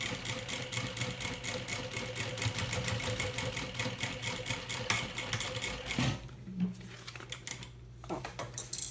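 Sewing machine stitching a small thermal bag, a fast steady mechanical whir running continuously for about six seconds before stopping, followed by quieter handling noises and faint room sound.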